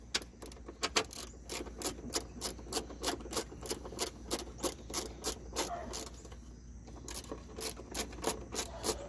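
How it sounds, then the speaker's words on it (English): A fog light housing is screwed in on a 1994–2001 Dodge Ram, a repeated rhythmic ratcheting rasp of turning strokes, close and steady, with a short pause midway. "That's a lot of screwing."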